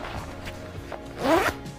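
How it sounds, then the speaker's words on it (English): A short zipper pull on a dog jacket, a quick rising rasp lasting under a second, close by with faint handling noise around it. "zip it up"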